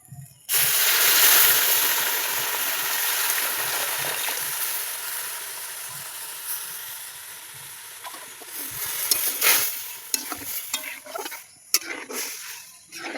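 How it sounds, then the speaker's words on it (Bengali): Semolina cooking with ghee and milk in a pan for sitabhog, a bright bubbling sizzle that fades slowly, with scattered stirring scrapes and knocks toward the end, no talking. "অল্প আঁচে জাল দিয়ে সুজিটাকে আমি খুব ভালো করে রান্না করে নেব"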